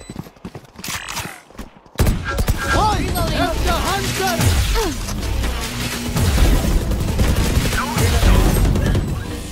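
Gunfire in the tactical shooter Valorant: sparse shots at first, then dense rapid bursts and rattling automatic fire with ability sound effects, loud and continuous, while players talk over it.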